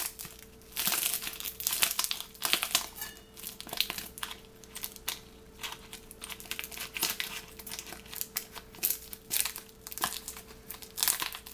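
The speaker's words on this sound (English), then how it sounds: "I'll go ahead and cut that plastic wrapper." Scissors cut into and pull at the plastic wrapper on a 14-ounce pack of frozen mussels, giving close, steady crinkling and crackling with some tearing for several seconds.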